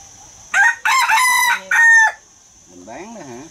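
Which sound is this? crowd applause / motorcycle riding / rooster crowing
rooster crowing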